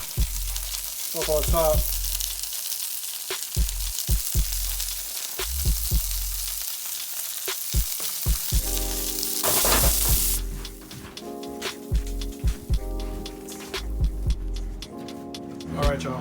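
Mushrooms and garlic fry in oil in a pan, a loud close hiss and crackle with bursts of stirring, and a voice speaks briefly over the sizzle.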